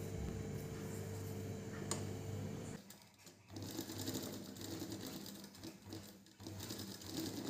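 An electric sewing machine stitches along a blouse edge in a tailoring lesson, whirring steadily for nearly three seconds, then stopping and restarting in shorter irregular bursts with brief pauses between runs.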